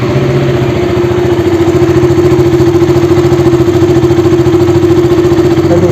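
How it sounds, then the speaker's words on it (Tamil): A KTM Duke 200 motorcycle engine idles steadily at close range, a loud even mechanical hum with a fast regular pulse and no voices. "நம்ம பைக்கை ஸ்டார்ட் பண்ணுவோம்."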